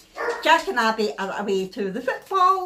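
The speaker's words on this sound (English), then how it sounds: "Please excuse that numpty barking." A pet dog barks and yips repeatedly indoors, close and loud, mixing with a woman's speech.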